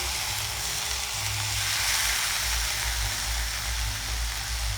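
Ginger and garlic paste frying in a pan, giving a steady, loud, even sizzle that continues throughout with no talking.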